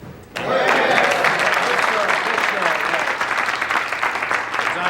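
Steady applause from a crowd, starting abruptly after a brief quiet moment and continuing at full strength throughout.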